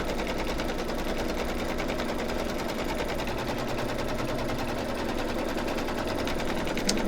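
An embroidery sewing machine stitches down a snowman mug rug, a steady rapid mechanical chatter running close and continuously at an even pace with no talking.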